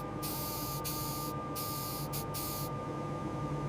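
Spray coating goes onto a battleship in a video game as a series of sharp hissing bursts, several short sprays stopping and starting in an irregular rhythm over a low, steady background hum.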